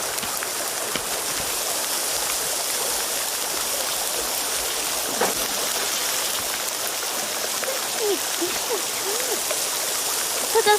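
Flowing river water in the Sons of the Forest video game, a steady rushing babble heard throughout at moderate volume with faint background sounds.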